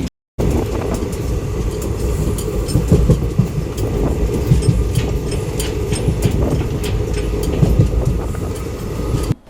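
Special train No 07219 from Narasapuram to Arunachalam on its inaugural run gives a loud, continuous rumble with rhythmic rail clatter and rattling carriages, heard close and unbroken.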